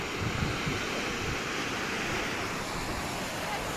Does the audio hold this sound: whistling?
no